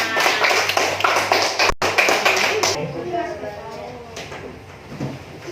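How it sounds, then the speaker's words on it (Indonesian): Applause in a classroom: a dense burst of many hands clapping for about two and a half seconds, then fading, with a voice speaking over the end. "kita beri aplaus untuk kita semua"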